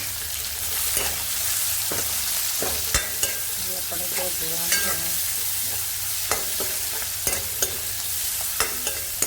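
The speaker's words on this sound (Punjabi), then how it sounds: "ਤੇ ਹੁਣ ਆਪਾਂ ਪਾ ਦਾਂਗੇ ਪਿਆਜ਼ ਦੋ ਆਪਾਂ ਪਿਆਜ਼ ਕੱਟੇ ਸੀ ਬਰੀਕ ਬਰੀਕ" Finely chopped onions fry steadily in a hot pan for an aloo pyaz dahi sabzi, a continuous sizzle broken by sharp clicks and scrapes of a stirring spoon, close and even throughout.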